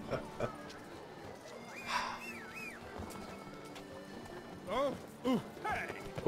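Roach the horse in The Witcher 3: Blood and Wine trots along with soft hoof clops, while several high, wavering whinnies rise above steady game sound and a speaking voice.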